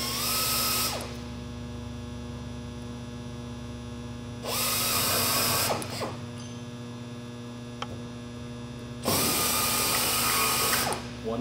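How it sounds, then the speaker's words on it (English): A power drill runs a countersink bit into a small curved sheet-metal rib piece in three whining bursts of a few seconds each, close and loud over a steady mains hum, with quieter pauses between them. "we're going to just go ahead and countersink our little"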